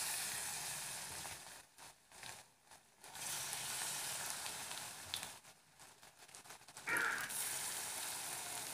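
Spoonfuls of wheat flour pitha batter frying in hot mustard oil in a kadai, a steady broadband sizzle that briefly drops away and returns, close and moderately loud, with no talking.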